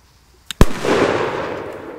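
Big Bang 2G Polenböller firecrackers go off outdoors: a small pop, then a loud close blast with a long, rolling echo trailing behind.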